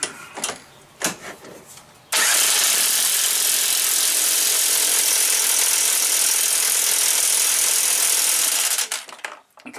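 Power tool running strut bolts tight on a Chevy Equinox front strut, a few short mechanical bursts then one loud continuous whirring, rattling run of about seven seconds, stopping with brief clicks.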